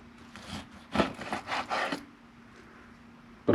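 A knife saws through beef for jerky, with several short rasping strokes close by, followed by a quiet pause.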